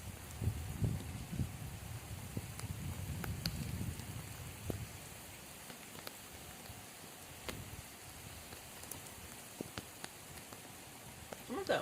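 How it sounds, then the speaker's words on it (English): Heavy rain during a New Jersey tornado-watch storm pours steadily onto surfaces outdoors, a dense, continuous hiss with scattered sharper drop impacts, loudest at the start. "No, I'm about to get hit with some more heavy rain."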